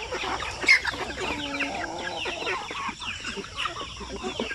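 Chickens on a small backyard poultry farm cluck and chatter in overlapping bursts, several birds close by with one louder squawk near the start, and no talk.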